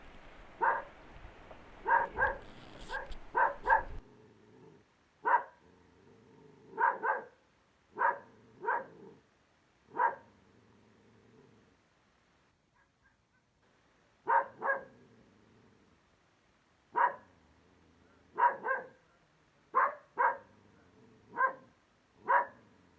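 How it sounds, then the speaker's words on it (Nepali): An angry dog barks in a village, sharp single barks and short pairs repeating at uneven intervals over about twenty seconds, fairly close and clear against a quiet background. "अनि कुकुर रिसाएको"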